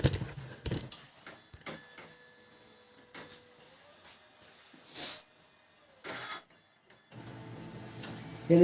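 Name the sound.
Pantum laser printer warming up after fuser assembly repair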